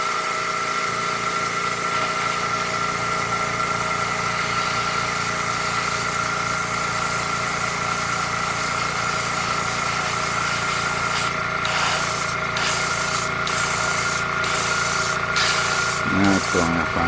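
An AIRGOO AG-426 airbrush compressor runs with a steady motor hum and whine, while the airbrush gives short bursts of spraying hiss in the second half, ending with a few faint knocks.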